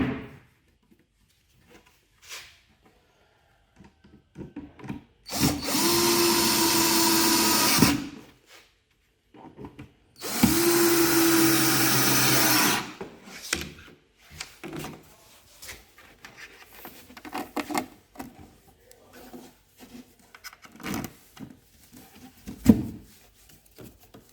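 A power drill drives mounting screws into a wooden microwave cabinet during assembly, two loud sustained whirring bursts of a few seconds each, followed by scattered handling clatter and taps.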